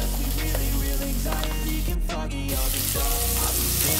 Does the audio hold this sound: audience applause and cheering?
no